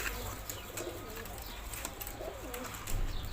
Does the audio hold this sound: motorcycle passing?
no